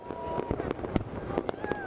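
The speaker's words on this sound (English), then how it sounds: "Fireworks explode over the ancient Parthenon in Athens as Greece welcomes the new year." Fireworks burst over the ancient Parthenon in Athens at a New Year celebration, a rapid scatter of sharp pops and bangs heard at a distance over a busy crowd murmur.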